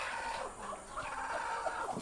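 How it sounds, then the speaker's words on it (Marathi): Native desi hens sitting on clutches of eggs on a Konkan village poultry farm, giving low, continuous grumbling clucks close by, steady and moderately loud for a couple of seconds. "इथे कोंबड्या आहेत, अंड्यांवर बसवलेल्या आहेत."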